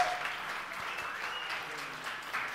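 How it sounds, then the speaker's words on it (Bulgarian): An audience at a club show at Royal Sofia Club claps in dense, sustained applause that swells slightly near the end, with some voices mixed in. "Силни аплодисменти, окуражете го този човек"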